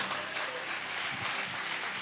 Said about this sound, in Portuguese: Aplauda, aplauda.